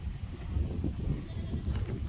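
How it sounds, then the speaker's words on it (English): Goats at a goat farm bleat in a low, murmuring chorus, several animals calling close by over a rumbling background, with no voices heard. "Hello, goats. That's a lot of goats."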